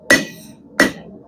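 Two sharp, ringing hammer blows about 0.7 seconds apart from a 1.5-pound hammer striking hot steel while forging a big custom hook, each hit bright and close with a short metallic ring and quiet between strikes.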